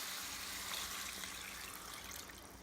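Water poured into a pot of frying meat for an Indian meat and potato curry, a steady broadband rushing trickle at close range, fairly faint and continuous throughout with no talk.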